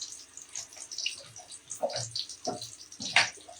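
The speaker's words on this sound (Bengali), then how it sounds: "পরিষ্কার করে লবণ হলুদ দিয়ে ধুয়ে নিচ্ছি।" Fish pieces are rinsed in water with salt and turmeric for a curry: irregular close splashes and sloshing bursts, with no talking.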